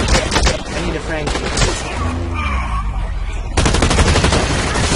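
Light machine gun firing in Blacklight Retribution, loud rapid automatic bursts up close, a long burst at the start and another near the end with a short pause between them.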